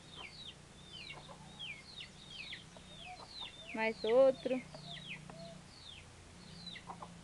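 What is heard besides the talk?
chickens clucking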